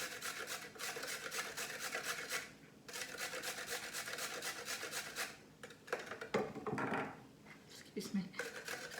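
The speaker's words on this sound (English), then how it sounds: "we probably just grate about 1/4 to 1/2 a carrot into our beef mince" An unpeeled, washed carrot rubbed hard against a grater for beef mince filling, loud rhythmic rasping strokes in quick runs with short pauses, close up, a voice speaking briefly over the scraping.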